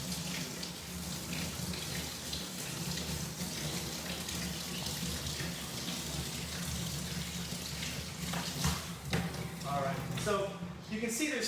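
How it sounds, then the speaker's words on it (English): Water is poured over hands for washing, a steady broadband splash running the whole time with a person talking over it. "So I'm going to pour some water."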